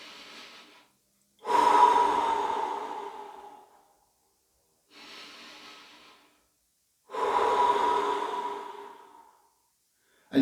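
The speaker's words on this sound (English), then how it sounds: "So for example, so you're breathing in" Two long, deep diaphragmatic inhales each followed by a slow exhale, with softer breaths between, close to the microphone and alone without talk.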